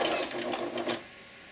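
Sewing machine stitching a bib apron, a quick rhythmic run of needle clatter lasting about a second, close and clear, then stopping.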